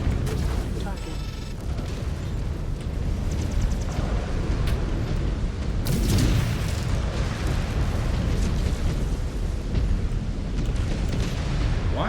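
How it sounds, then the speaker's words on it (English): An exploding mech reactor on an assault mech in the video game Mechwarrior 5 Clans, a dense, sustained rumbling blast with a sharper burst partway through, loud and filling the whole stretch. "That reactor's going to blow."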